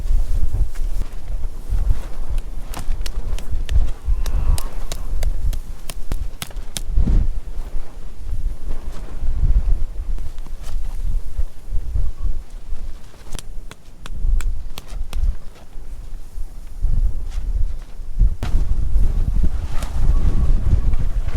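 Strong wind buffets the microphone in constant gusty rumbles at a night moto camping site, with occasional creaks and knocks from rigging or a boat nearby.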